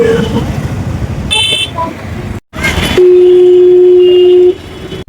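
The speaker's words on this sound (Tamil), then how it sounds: "ரொம்ப டிராஃபிக்காக இருக்குது." Busy road traffic on the way to the Tirupati Gangamma festival, with a loud engine rumble, a brief honk, and then a long, close car horn blast lasting over a second.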